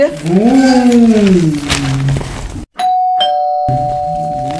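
An electronic doorbell rings in a home during an Odia comedy sketch: two clear, steady ding-dong tones ring out loudly and close, after a voice speaks over a brief gap of near-silence.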